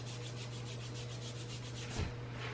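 Rhythmic squeaky rubbing of a paper towel on a clean resin 3D printer bed, a steady series of short strokes with a high-pitched squeal on each pass, ending in a soft thump, over a low constant hum.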